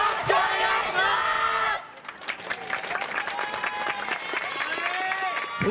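At the 2019 Suzu Fes outdoor festival, the audience claps in rhythm along with a live performance, with steady claps under singing voices and crowd noise.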